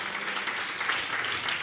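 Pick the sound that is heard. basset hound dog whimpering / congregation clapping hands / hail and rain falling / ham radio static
congregation clapping hands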